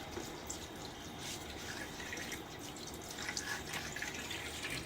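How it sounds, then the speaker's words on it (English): Cool hard water runs steadily at a bathroom sink and is splashed onto the face before shaving. It makes a continuous soft rushing and splashing, fairly quiet, with no talking. "I'm just going to splash my face."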